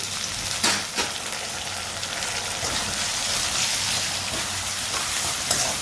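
Tomatoes, green chillies and turmeric fry in oil for a homemade methi curry, giving a dense, steady sizzle throughout with a couple of soft stirring bumps near the start.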